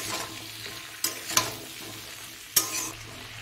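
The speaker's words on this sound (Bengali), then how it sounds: "এবার আলুটা দিয়ে দেব, আর এটাকে প্রথমে আমি হাই ফ্লেমে ফ্রাই করে নেব" Diced potatoes sizzle in a pan over a high flame, a steady frying hiss broken by three sharp scrapes of stirring near the one-second, 1.4-second and 2.6-second marks, close and fairly loud with no talking.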